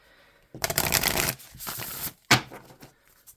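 Tarot cards are shuffled in two bursts, a long riffling flutter followed by a short second riffle, close up and crisp, with no talking.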